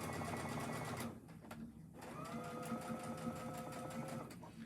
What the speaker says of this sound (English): You're going to sew on one side, and you're going to go ahead and sew your 1/4 of an inch seam.